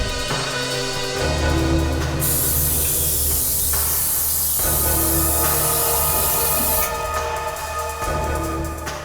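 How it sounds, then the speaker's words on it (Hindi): An aerosol spray hisses in one long continuous burst of about five seconds onto an air conditioner, heard over dramatic background music with no talking. "जरा इस पे स्प्रे करना।"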